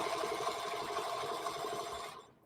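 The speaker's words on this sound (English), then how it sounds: "I know that if I sew just inside the line, that it will" A sewing machine stitching a quarter-inch seam on fabric postcards hums with a steady, rapid mechanical whir, moderately close, stopping abruptly at the end.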